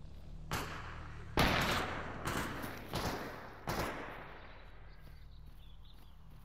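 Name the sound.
gunfire in the video game STALKER Anomaly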